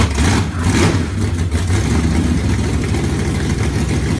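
A 2003 Cummins 24-valve diesel engine in a pickup truck revs up and settles into a rough, throbbing idle, loud and close, with no voices over the low mechanical rumble.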